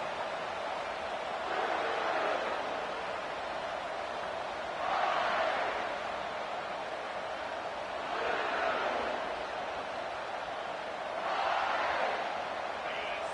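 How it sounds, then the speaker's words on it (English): A stadium crowd in the NCAA 25 college football video game roars in a steady wash, swelling in four rhythmic surges that rise and fall. "This crowd bringing an ear-splitting welcome to their visitors."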